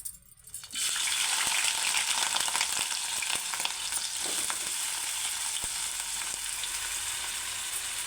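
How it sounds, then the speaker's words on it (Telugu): Onions hit hot oil in a pan for a bhanja fry and set off a loud, steady sizzle that holds through to the end. A few faint clinks and stirs sit beneath it. "ఆయిల్ అయితే వేడైంది ఆనియన్స్ వేసుకుందాం"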